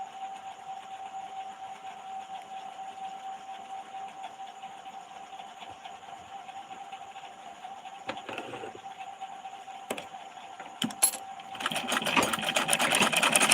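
Household sewing machine running steadily with a constant mechanical whir and tone, growing louder and rougher near the end.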